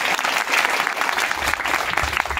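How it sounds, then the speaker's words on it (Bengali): Audience clapping for young people at a gathering in Bangladesh, a dense burst of steady applause from many hands, loud and close, with no talk over it. "তাদের জন্য একটা হাততালি করে"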